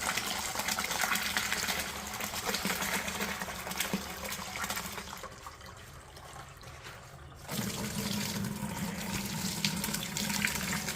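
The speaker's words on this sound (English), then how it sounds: "So we are going to pour it into my cheesecloth to let it strain so that I can get the cheese curds out" Whey and cheese curds poured into cheesecloth to strain while making homemade cheese, a steady splashing liquid gush that briefly eases and then swells again, close and alone.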